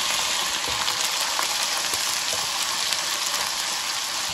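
Garlic and ginger paste frying with onions in a pan, a steady close hiss and crackle of sizzling oil continuing evenly without pause.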